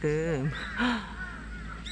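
Crows flocking to dogwood fruit at a native plant garden on Yumyeongsan give a few loud, harsh caws up close, with a person speaking briefly.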